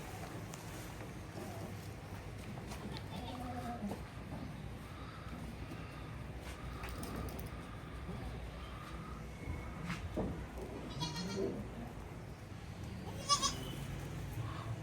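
Newborn goat kids bleat in scattered short calls while nursing from their weak mother goat on a goat farm, with outdoor wind and background noise underneath.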